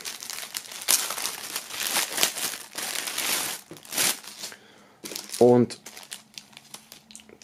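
Plastic film crinkles and crumples as it is pulled off items from an Alice Cooper Detroit Stories box set, bursts of rustling under someone speaking German, with a short squeaky stretch near the end.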